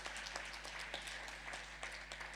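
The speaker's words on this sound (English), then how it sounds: "let's give them another round of applause" Faint, distant applause from an audience at a best practices presentation event, scattered claps over a low steady hum.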